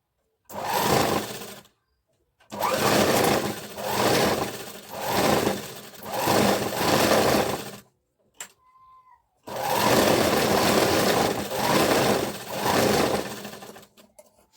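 A sewing machine stitches the seam of a bra-cut blouse in a series of loud, close bursts of rapid needle chatter with short stops between runs.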